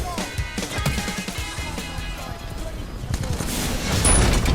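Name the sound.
R201A rifle gunfire from a video game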